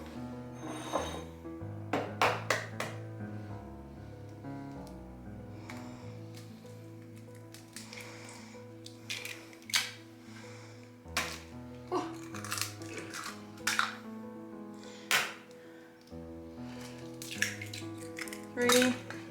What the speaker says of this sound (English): I'm gonna go ahead and mix in my eggs.